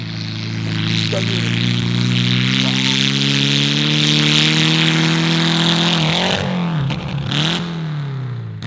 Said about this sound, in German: Man hört immer schön, wie er den Gang rausschmeißt